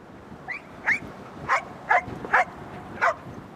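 A Malinois search-and-rescue dog with the fire brigade barks sharply to mark a victim during a training search, six clear barks spaced about half a second apart over gusty outdoor background noise.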